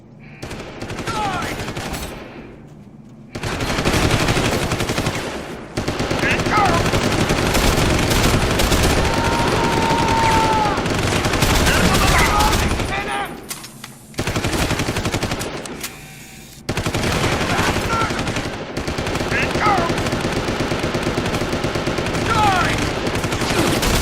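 Sustained suppressing machine gun fire in Deus Ex: Human Revolution, loud and dense, running in long bursts broken by a few brief pauses near the start and around the middle.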